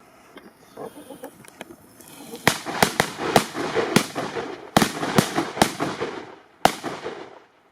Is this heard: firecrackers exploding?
yes